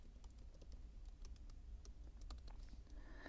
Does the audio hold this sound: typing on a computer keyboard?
yes